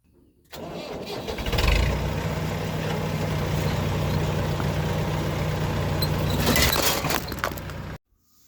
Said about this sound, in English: crank the tractor